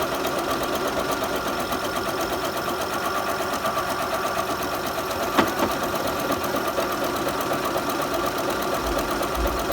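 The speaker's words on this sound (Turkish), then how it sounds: "Bunu da ayarladıktan sonra direkt basıyorum pedala. İliklerde makine zaten kendisi duracak." A Bernette b37 domestic sewing machine runs at a steady pace, stitching a buttonhole through fabric. It gives a continuous, even mechanical whir with one brief louder click partway through, and no one speaks.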